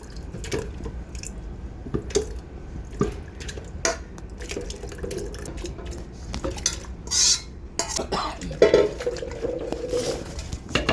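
Pickled amla and its brine go into a plastic bottle, with irregular clinks and taps of a spoon against containers, splashes and drips of liquid, and scattered knocks at close range in a kitchen.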